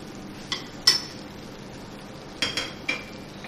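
Spoon clinking against a pot or bowl while two tablespoons of yogurt go into chicken pulao, with five short, bright metallic taps spread across a quiet kitchen background.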